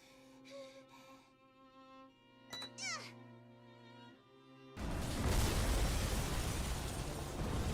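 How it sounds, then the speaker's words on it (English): Explosions in the video game The Hundred Line begin with game tones and a sharp crack, then erupt into a loud, sustained roaring blast that rumbles on for several seconds. "And that was plenty of explosions."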